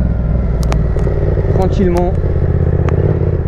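A Yamaha Tracer MT-07 motorcycle engine hums steadily and close up while the rider talks over it.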